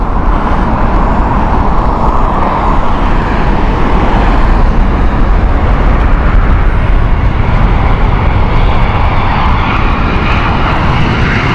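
Steady, close jet-engine roar from a British Airways airliner inbound from Inverness at Heathrow, broad and unbroken rumble throughout with no voices.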